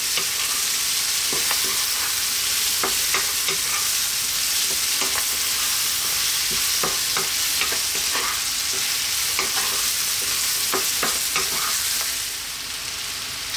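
Green beans and carrots fry and get stirred in a hot pan for Ethiopian fasoliya tibs. A steady sizzle runs throughout, with repeated scraping stir strokes in loose bursts and no talk.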